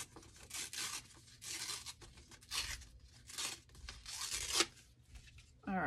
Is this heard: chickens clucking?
no